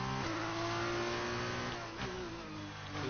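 A Formula 1 car at the Italian Grand Prix, its engine a loud, continuous high-revving whine with a strong harmonic tone that dips briefly before climbing again.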